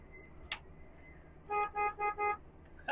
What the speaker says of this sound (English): You have a highway air horn.